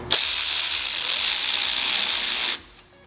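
Ratchet clamps crank tight on tubing for a go-kart chassis build, giving one close, continuous rapid clicking ratchet burst of about two and a half seconds that stops abruptly.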